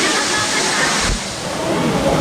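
Water at Alitap Falls in Mauban, Quezon, roars as a steady, loud broadband rush that fills the whole moment with no pause, close and continuous.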